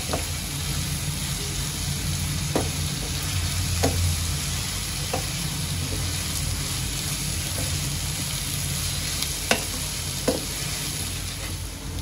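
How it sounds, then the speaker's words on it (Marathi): Onions sautéing in a pan over a medium-low gas flame, a steady close sizzle with a few sharp scrapes of a spoon against the pan and no talk. "कांद्याला चांगलं लाल होईपर्यंत मी परतून घेतलेला आहे।"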